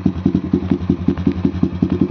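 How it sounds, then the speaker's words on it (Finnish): Motorcycle fitted with a DP Killer exhaust, its baffle removed, idling with a deep, lumpy rhythmic thump of about five to six pulses per second, close and loud with no one speaking. "aika mukavan kuuloinen tyhjäkäynti tässä vehkeessä."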